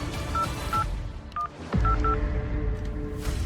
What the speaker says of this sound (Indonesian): Kak Ana, ada keperluan apa kamu telepon aku?